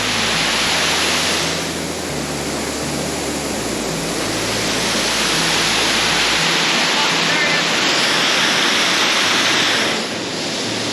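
A rushing waterfall near Harvey Dam roars loud and close as a steady, broadband wash of falling water that holds unbroken throughout.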